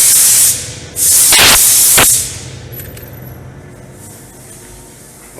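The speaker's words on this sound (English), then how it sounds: "The guy that's spraying right now. He's using this Nissan Select clear." A spray gun lays Nissan Select clear coat on car fenders in a paint booth, giving loud bursts of hissing spray with short gaps, then a quieter ambient booth hum with faint hiss and no talking.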